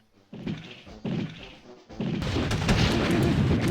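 Mortar fire in the 1999 video game Army Men 2: two heavy thumping launches a short beat apart, then a third boom that rolls into a sustained, noisy blast with crackling debris.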